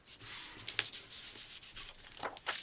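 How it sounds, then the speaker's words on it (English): Soft, faint rubbing as a lightly painted textured surface is pressed and rubbed onto paper for home printmaking, with a steady low scratchy swish and a few small taps. "I'm putting it down and rubbing it"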